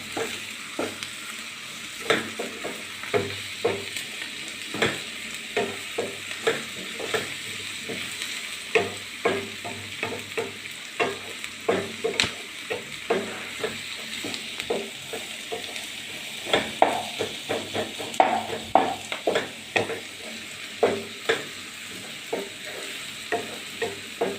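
Kolli vada mixture of grated tapioca, onion and chopped green chillies being stirred and mixed, giving a continuous soft scraping, squelching texture with frequent light clicks and taps, close and steady throughout.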